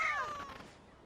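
A single cat meows in the Genshin Impact video game, one of the cats Harut and Marut, a short, clear, falling mew that fades out within a second.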